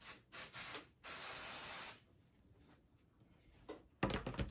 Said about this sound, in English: what I will do next is spray my hoop